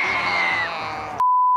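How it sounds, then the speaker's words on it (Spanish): A crowd at a live show in Oaxaca cheers and yells in a dense, steady roar, then a sharp electronic beep cuts in near the end, holding a single steady tone. "¡Un aplauso!"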